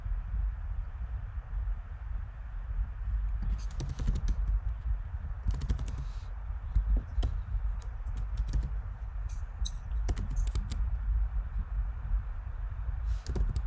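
Keys clatter on a computer keyboard as a sudo npm install command is typed, the clicks coming in short uneven bursts over a steady low room hum, close and fairly quiet.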